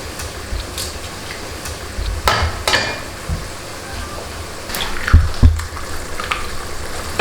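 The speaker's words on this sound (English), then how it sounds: "it's time to crack the eggs" Eggs cracked one after another into a pan while making a Turkish breakfast, giving a few sharp taps and splats over a steady, sizzling frying hiss, with no talking.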